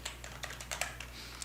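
Code is typed on a computer keyboard in a quick, uneven run of soft, close key clicks at low volume.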